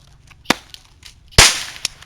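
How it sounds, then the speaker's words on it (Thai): Gunshot sound effect during a school play, heard as a few sharp cracking bangs, one loud burst after a smaller snap, with quieter clicks around them and no talk. "เสียงปืนอ่ะ"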